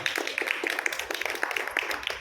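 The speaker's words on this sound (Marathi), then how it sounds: "त्यांचं आपण टाळ्या वाजवून स्वागत करतो" An audience at a lecture gives the arriving speaker a brief burst of light applause, dense overlapping claps in a modest-sized hall.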